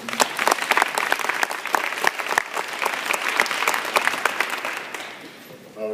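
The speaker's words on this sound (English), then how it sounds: "if you join me in a round of applause for our artists" Crowd at a DARE graduation ceremony applauds student artists, with loud, crisp clapping from many hands for about five seconds that then thins out, and a voice begins at the end.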